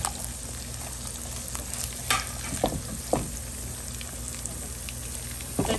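Onion, tomato and green chili frying in a pan with browned garlic, a dense steady sizzle up close, broken by a few sharp spatula scrapes and taps, and no talking.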